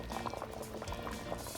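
Liquid for a pork roast boils in a pot, a dense, steady bubbling and churning heard close up for under two seconds.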